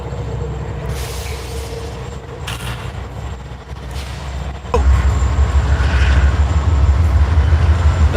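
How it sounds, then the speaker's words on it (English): A Norfolk Southern train passing trackside: a rumbling, clattering drone of railcars close by, joined by a sudden loud burst that makes the rolling noise heavier and steady through the end. "Oh, we got a train passing through too."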